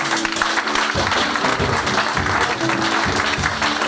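A congregation at a church's first anniversary celebration applauds to acclaim the Lord, loud sustained clapping with rhythmic bursts and cheering voices mixed in, close and continuous.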